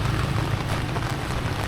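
Heavy rain pours steadily during the rainy season in Laos, a dense, continuous hiss of drops striking surfaces close by, with no pauses and no voices.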